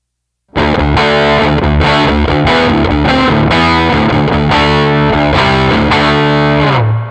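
A heavily distorted electric guitar through a Catalinbread distortion pedal in super bass mode plays sustained, bass-heavy chords with a thick, saturated tone, loud and close, with no talking.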